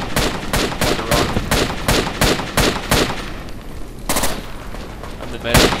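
Bursts of automatic rifle and machine gun fire ring out in Project Reality's Falklands minimod, a rapid string of loud, sharp shots followed by a pause, then further isolated cracks, with voices mixed in.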